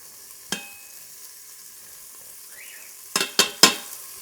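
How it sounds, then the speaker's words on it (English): Italian beef searing in an Instant Pot with a quiet steady sizzle, broken by a few sharp scraping stirs of a utensil against the pot, close and alone. "Hear that sizzle?"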